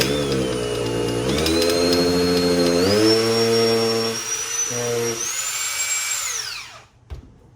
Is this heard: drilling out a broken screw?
yes